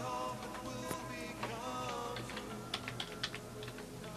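A password is typed on a computer keyboard at a Windows 8 Developer Preview login, a quiet run of quick key clicks with a few louder taps toward the end.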